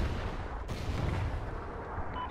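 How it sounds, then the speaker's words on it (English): A Trinity rocket strike explodes in the Warhawk video game, one deep booming blast with a rumbling tail that rolls on for a couple of seconds, loud and heavy. "Friendly Trinity rocket inbound."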